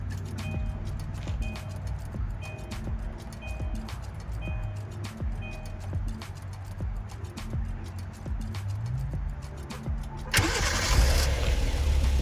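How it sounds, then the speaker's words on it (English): A 2016–2020 Kia Sorento, started by remote start, first gives a run of faint regular clicks and a low hum, then its engine cranks and catches near the end with a sudden louder roar. "And here you go, the car is running."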